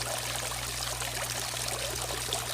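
Clean water returning from the filter into a swimming pool pours in a steady, continuous rushing stream, loud and close, with a low mechanical hum running underneath.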